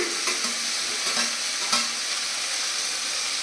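Vegetables for sambar, including pumpkin, drumstick and snake gourd, are stirred and sautéed in a pan, giving a steady frying sizzle with a few soft scrapes of the spoon against the metal, close and moderately loud, with no talking.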